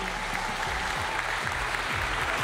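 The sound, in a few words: audience applause at an awards evening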